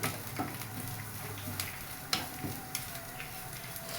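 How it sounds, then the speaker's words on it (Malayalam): Food frying with a soft steady sizzle in a pan while being stirred, with scattered light clicks and scrapes of the utensil, fairly quiet. "ഇത് അത്രക്ക് ഞാൻ മൂപ്പിക്കത്തില്ല കേട്ടോ ഒരു മീഡിയം മൂപ്പേ മൂപ്പിക്കത്തുള്ളൂ"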